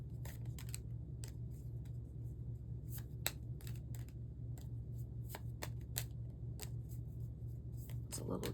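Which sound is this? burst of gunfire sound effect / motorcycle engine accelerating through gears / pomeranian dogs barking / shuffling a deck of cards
shuffling a deck of cards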